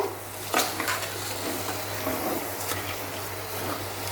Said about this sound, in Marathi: तर व्यवस्थित घाटून घेऊया हे सर्व